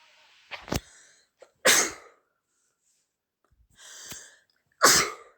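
Two sharp bursts of coughing, each a quick double expulsion, loud and close with quiet pauses between.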